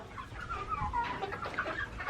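Backyard chickens, hens and roosters together, cluck softly and continuously at close range, a low murmuring chatter with no talking over it.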